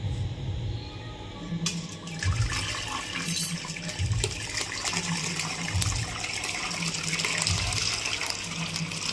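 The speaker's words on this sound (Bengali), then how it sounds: "ভালো করে জল ঝরিয়ে নিতে হবে।" Water pouring and draining from freshly curdled chhena through a white cloth for rasgulla, a continuous gushing, splashing flow close by with surging swells, no voices over it.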